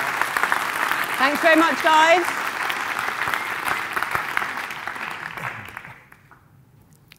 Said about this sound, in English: big round of applause for the team leaders.